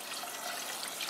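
About two cups of water poured for cooking rice, a brief, steady splashing rush of liquid with no pauses, heard faintly and close by.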